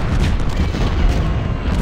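Cannon fire booms from Civil War artillery in the strategy game Ultimate General: Civil War, a dense, continuous low rumble of overlapping blasts with no voices.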